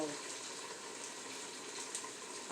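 Spinach sautéing in a pan gives off a soft, steady sizzle and hiss, faint and even, with no distinct pops.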